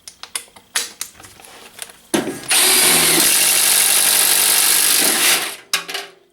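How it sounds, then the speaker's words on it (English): Milwaukee Shockwave 3/4 inch thin wall hole saw drilling through the side of a workpiece, a loud steady grinding whine lasting about three seconds after a few short clicks and bumps, with nobody speaking. "So with the 3/4 inch bit, I'm going to now drill through the side."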